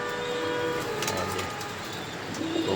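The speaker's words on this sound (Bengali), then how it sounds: "তো কবুতর এখন ছাড়বো বাহিরে এই বৃষ্টির মধ্যে, তারা বৃষ্টিতে যাতে ভিজতে পারে এই কারণে।" Racing pigeons being let outdoors during rain coo softly close by over a steady wash of rainfall and background hum.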